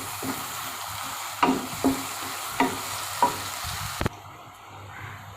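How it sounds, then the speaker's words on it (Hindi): Onions fry in a pan with a steady background sizzle, broken by several distinct scraping knocks of a spoon stirring against the metal, close by, with no one talking. "प्याज शामिल करके इसको थोड़ा सा हम फ्राई करेंगे।"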